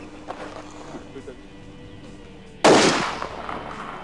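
A single loud, sharp rifle shot bursts out after a quiet stretch of faint background sound while a hunting rifle is sighted in near a truck at a bear-hunting outfitter, with a short decaying echo.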